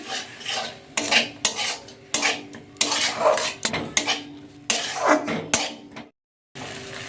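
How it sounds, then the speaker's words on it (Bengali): A spoon scrapes and clatters against a pan while yogurt is stirred into palak paneer masala, in repeated close rubbing strokes with brief knocks, pausing for a moment near the end. "2 চামচ দিয়ে দিলাম, ভালো করে নেড়ে নেব।"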